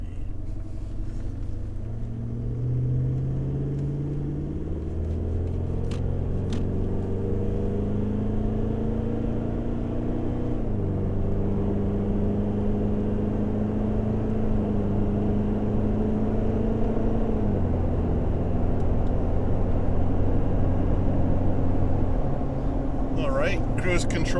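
A 4x4 cruises at about 105 on a bitumen highway into a headwind, its engine and road noise a steady, close drone with shifting tonal hum and no break.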